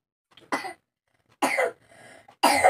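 A person coughs three times at close range, each cough a short, harsh burst separated by brief pauses, with no talking.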